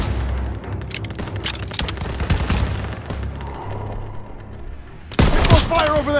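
Gunfire rattles through a war video game battle, bursts of rapid shots and booms up close, with louder firing breaking out near the end under background game voices.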